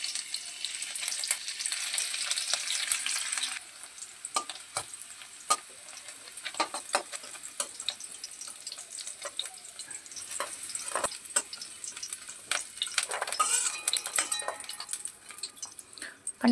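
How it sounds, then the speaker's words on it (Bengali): Paneer fries in ghee in a pan, a steady close sizzle broken by repeated stirring scrapes and occasional clinks of a utensil against the pan. "এবার আমরা বাকি পনিরগুলো ভেজে নেব।"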